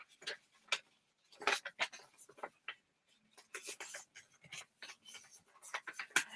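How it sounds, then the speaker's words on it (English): Paper folded along a score line gives a series of soft crisp rustles and creases in short bursts, close up and quiet. "first we're going to fold on the score line that we just made"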